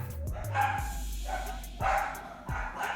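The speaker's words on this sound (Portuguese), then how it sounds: "Vou chegar em casa que a cachorrada começa." Dogs bark several times nearby in short, loud bursts with brief pauses between them.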